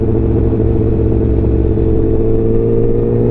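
A loud Honda CBR1000 SP race-spec motorcycle engine running at a steady, throaty idle-to-rev drone, close up, with no voices.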